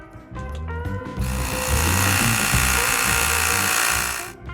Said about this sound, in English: I'm using an electric air pump,